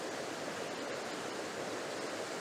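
The River Dart flowing through woodland, where a fallen branch lies in the water, gives a steady, dense rush of water. The noise stays broad and continuous at a constant level throughout, with no voices.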